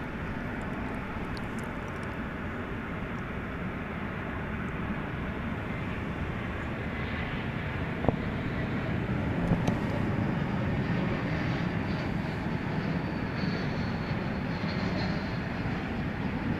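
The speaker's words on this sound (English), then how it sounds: "American Flight 2115 is coming in from Miami. It's an Airbus A321." An American Airlines Airbus A321 arriving from Miami at DFW airport at night, a broad steady engine roar heard from a distance, holding level with little change for the whole stretch.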